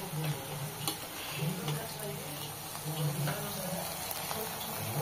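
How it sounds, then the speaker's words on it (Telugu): Masala being stirred through Maggi noodles with paneer pieces, onion and capsicum in a pan, a soft continuous scraping and faint sizzle running steadily throughout with low background hum. "సో ఇప్పుడు మొత్తం మసాలా అంతా మ్యాగీకి పట్టేలాగా మిక్స్ చేసుకోవాలి"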